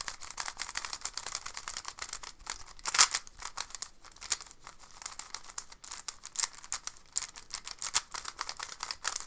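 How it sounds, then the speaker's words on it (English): A clicky speed cube with magnets on its edge pieces being turned rapidly, giving a dense stream of sharp, close clicks and snaps at a steady, quiet level with no voices. "The first thing I noticed about this cube is that it sounds very clicky."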